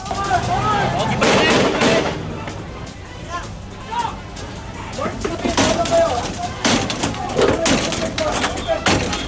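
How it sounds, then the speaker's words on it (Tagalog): Sharp gunshots crack out in irregular bursts over a noisy, agitated crowd during a violent clash over a house demolition in Caloocan, Philippines, with bottles and stones thrown; several loud reports stand out from the shouting and commotion. "umalingaw-ngaw ang sunod-sunod na putok ng baril"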